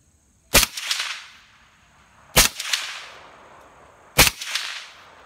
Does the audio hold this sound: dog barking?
no